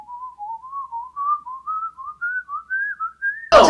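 A person whistles a quick run of about a dozen short notes that climb steadily in pitch. The whistling is clear and alone, and a sudden brief burst of noise cuts it off at the end.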